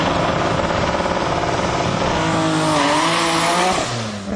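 A Supra drag car with a 3.1 engine and twin HKS 3240 turbos races at a drag meet in Sendai, its loud, high-revving engine roaring continuously with a rising pitch. Tire noise joins the roar, and no one speaks.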